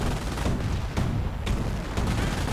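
Artillery fire in a World War II strategy game, a dense, continuous barrage of booming blasts and crackling gunfire with sharp impacts repeating about every half second, loud and close.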